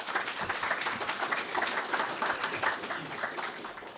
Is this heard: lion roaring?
no